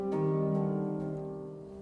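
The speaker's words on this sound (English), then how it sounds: "The harp is going to sound something like this." Sampled orchestral harp from a sample library: a single plucked chord with bright, sustained tones that ring out and slowly fade over about two seconds, played alone with no voices.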